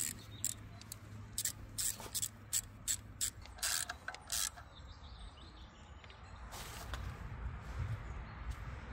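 Ratchet wrench clicking in short bursts while tightening 10 mm bolts on a BMW E60 engine during a timing and water pump job, a string of quick near ratcheting strokes with pauses, then quieter workshop background.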